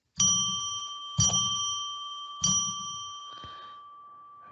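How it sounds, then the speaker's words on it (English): A bell rung three times in slow, even succession to open a psychic radio reading, each strike bright and ringing with a long shimmering decay that overlaps the next. "let's ring a bell 3 times to declare sacred space"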